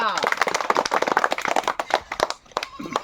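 Sharp, uneven hand claps from a small crowd welcoming a women's committee president at a local election gathering, close and loud, with voices talking over the clapping.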